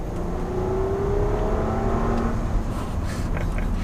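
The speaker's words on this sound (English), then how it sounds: "All right, so we'll give it some gas, see what happens." A 2017 Bentley Bentayga W12 pulls hard under steady acceleration from about 40 to 70 mph, a smooth rising whine and deep rumble building continuously without a break.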